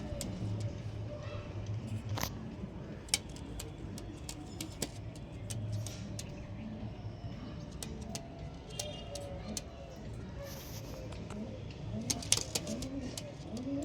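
Punjabi pigeons coo softly at a distance against a quiet background with scattered ticks and faint clicks.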